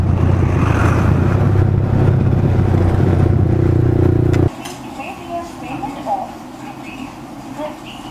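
A Yamaha R15 V3 motorcycle engine runs loud and close, then drops away abruptly as the bike rides off, leaving quieter road and wind noise behind.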